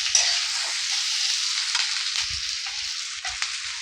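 Green capsicum sizzles steadily in a hot pan while vegetables cook for upma, with light stirring scrapes and soft knocks over the continuous hiss, close and moderately loud, with no voices.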